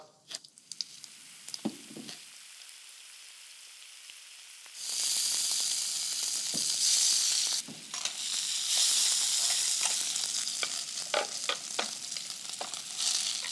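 Cumin seeds sizzle loudly in hot oil in a kadhai, a bright crackling hiss that bursts in after a quiet start and keeps frying steadily with stirring clatter, close and alone without talk.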